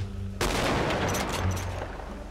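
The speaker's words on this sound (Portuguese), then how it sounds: "Ô, Danés, tem que dar tiro aí, tá?" Rapid gunfire erupts in GTA 5 during a Brazilian army hunter training session, a loud sustained burst of shots crackling on and on with no pauses.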